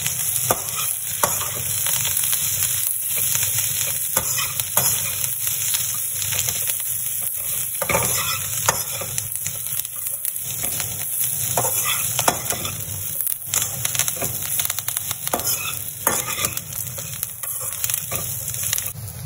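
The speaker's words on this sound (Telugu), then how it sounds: "కొత్తిమీర ప్లస్ చింతపండు. దీన్ని బాగా మిక్స్ చేయాలి." Fried bitter gourd being stirred in a pan with coriander and tamarind, heard as continuous loud close scraping and rustling of the spoon through the mix over a constant frying sizzle.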